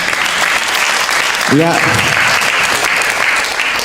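Audience applause at a religious talk by an Indonesian ustadz, a broad steady wash of clapping through the whole stretch, briefly overlapped by a single spoken word near the middle.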